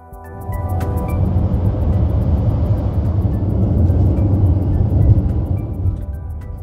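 Steady low engine and road rumble inside a car riding to Orlando International Airport, a continuous loud drone with no talking.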